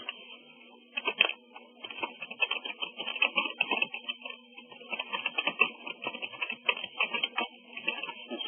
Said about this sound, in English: sorry about my typing noise there